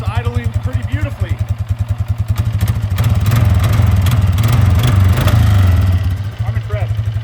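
A 90s Ford Ranger engine idling nearby, a loud rhythmic chugging pulse that rises into a fuller rev in the middle before settling back to an even idle, with a voice speaking briefly.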